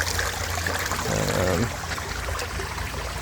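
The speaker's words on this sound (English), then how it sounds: "It was a nice creek." Water from a creek flows steadily along a trail, a continuous close rush with a brief louder trickling gurgle partway through, no voices.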